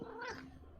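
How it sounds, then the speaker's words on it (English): A single short, drawn-out cat meow, faint and somewhat distant, rising and falling in pitch over a quiet background. "Cat."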